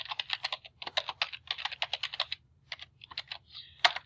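Rapid keystrokes on a computer keyboard as a password is typed, close and clear, in quick irregular bursts with short pauses and one sharper final key press.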